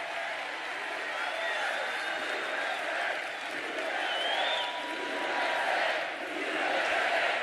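Crowd at a political rally for Trump cheers and roars in a steady, dense wash of voices, with occasional louder swells across the whole stretch.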